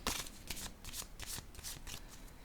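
Tarot cards shuffled in the hands, a quick run of crisp riffling bursts and soft slaps repeating close to the microphone, with no voices.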